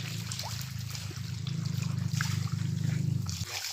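Water trickles and flows steadily at a rural provincial spot, a soft continuous burble with a low droning hum underneath and no voices.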